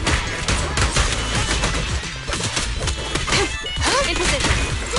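Sustained automatic gunfire from a heavy gunner enemy in the game Zenless Zone Zero, a dense, loud rattle of rapid shots and impacts running continuously without a break.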